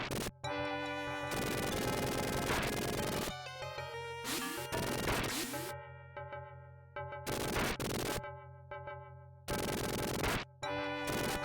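Bursts of rapid machine-gun fire in a video game, harsh crackling volleys starting and stopping repeatedly between quieter gaps with tonal game sounds underneath.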